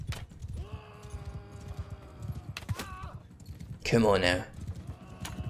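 Horse hooves clip-clopping in the video game Mount and Blade 2 Bannerlord, rapid rhythmic hoofbeats under a spoken voice, with a loud whinny or shout bursting in near the end.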